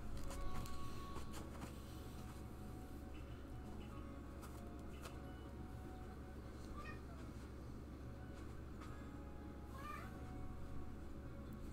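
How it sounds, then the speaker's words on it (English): A domestic cat gives a few faint, short meows at intervals over steady low background noise, with quiet talk in the room. "Our cat is meowing ever so sweetly to us."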